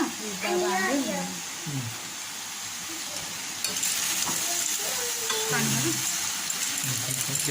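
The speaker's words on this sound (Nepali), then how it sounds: "बिचमा चलाउँदै" Snail curry sizzles and fries loudly in a pan while being stirred, a steady hiss with scraping strokes throughout, and a voice speaks over parts of it.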